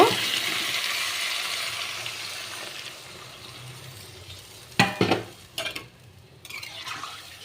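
Water poured into a hot cooking pan of vegetables, a rushing hiss that fades into a simmer, then a few louder splashes and bursts of sizzle near the end.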